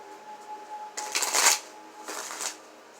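Tarot cards are shuffled in two quick riffling bursts, crisp and close, separated by a short pause over a faint hum.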